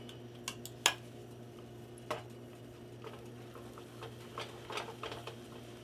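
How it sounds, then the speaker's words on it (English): A whisk stirs flour into broccoli cheddar soup in a pot, with faint scattered clicks and taps of metal against the pan over a quiet steady background hum. "Grab yourself a whisk, because we're going to whisk this in slowly."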